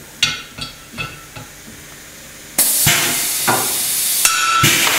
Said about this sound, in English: Pull the trigger, wait for the stem to break, then release the trigger